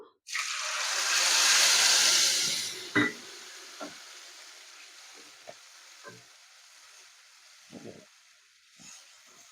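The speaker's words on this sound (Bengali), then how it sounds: "মশলাটাকে 2 মিনিট ভেজে নেব" A prepared spice paste hits a hot pan with cinnamon, giving a loud burst of sizzling that fades over a few seconds into a quieter simmer. A few scattered clinks of stirring follow.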